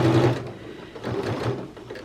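A sewing machine stitches 5/8-inch dress seams in short bursts, its motor whirring steadily, pausing briefly, then running again in quick uneven spurts, close and moderately loud.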